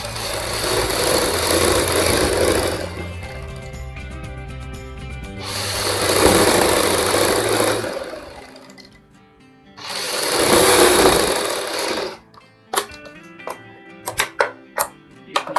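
A sewing machine stitches a half-inch neck strip for a suit, running in three sustained whirring bursts separated by pauses, then giving way to a few sharp separate clicks and knocks.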